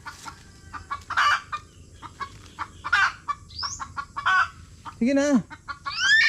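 Chickens cluck in short, close bursts with a rising squawk near the end, while a person briefly speaks nearby.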